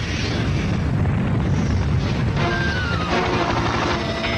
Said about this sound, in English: We have ignition. We have liftoff.